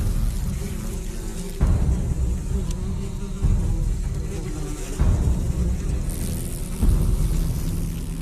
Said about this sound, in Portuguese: Um esquadrão amarelo levanta voo, deixando as sentinelas defendendo a colmeia.